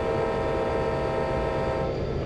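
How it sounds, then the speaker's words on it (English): A simulated GP40 diesel locomotive on a Salt Lake route in Train Simulator 2020 sounds a sustained air horn as an oncoming freight train passes, the horn held loud and steady throughout. "Go ahead and let off the air horn because he's already crossed."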